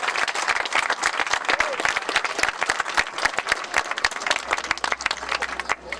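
An outdoor crowd at a county heart walk event claps for board members, a sustained burst of dense applause from many hands, loud and close and fading slightly at the end.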